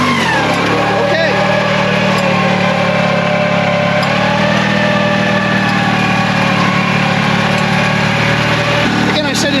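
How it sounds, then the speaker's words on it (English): A gear drive tractor engine runs steadily and loudly up close as it pulls away in second gear, a dense continuous drone with a slight shift in tone as the load comes on, someone talking over it. "I'm going to slowly let off my clutch, and in theory we should start going forward."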